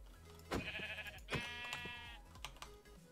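A Minecraft sheep bleats a few times in quick, wavering calls over a low steady background hum, with a couple of brief clicks.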